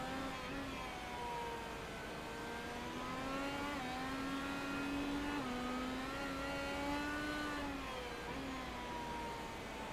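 An IndyCar race car engine in the iRacing sim at Mid-Ohio drones steadily, its pitch rising and falling gently through gear changes and corners, continuous and moderately loud with no talk.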